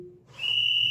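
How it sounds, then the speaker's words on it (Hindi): A garbage collector blows a whistle outside, a single loud sustained high-pitched tone that starts partway in and holds steady to the end over faint background noise. "ये देखिए कचरा उठाने वाला आ गया, सीटी मार रहा है"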